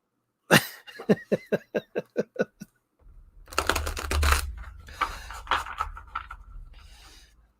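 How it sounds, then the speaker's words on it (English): A deck of reading cards is shuffled close by. A quick, even run of about ten crisp taps is followed by a longer, busier rustle and slap of cards. "Shuffling."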